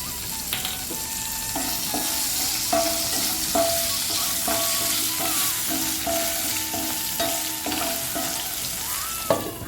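Okra sautéing in a pan for one-pot sambar rice, a steady close sizzle with repeated rhythmic scrapes and clinks of a spatula stirring the pan, no speech.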